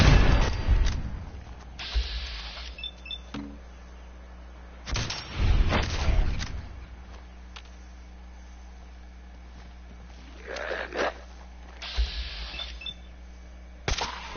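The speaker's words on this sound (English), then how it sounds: "Time to take out my sniper rifle." Sniper rifle shots in Fallout 4, a few sharp separate cracks with booming tails spaced several seconds apart over a quiet background hum, heard alone without talk.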